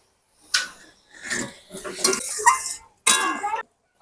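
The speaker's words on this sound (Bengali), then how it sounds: "এবার মাছ ভাজাটা দিয়ে দেবো।" Fried fish going into a pan of fish curry with whole spices and slit green chillies, heard as a run of close clattering and scraping bursts of utensil on metal, loud and separated by brief silences.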